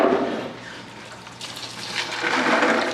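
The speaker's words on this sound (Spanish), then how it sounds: "le vamos quitando el fino con la ayuda del chorro del agua" A jet of water rinses the fine material out of a soil sample held in a container, a steady rushing gush that swells louder toward the end, with no talking.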